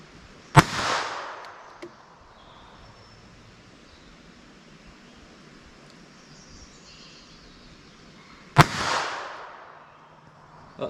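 Two sharp pistol shots from a Beretta Bobcat .22 long rifle pocket pistol ring out outdoors, spaced about eight seconds apart, each a loud crack with a trailing echo over quiet ambient background.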